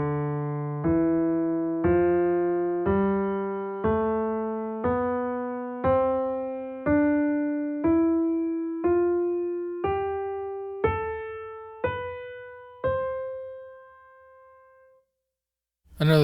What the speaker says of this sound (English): So that's going to sound like this.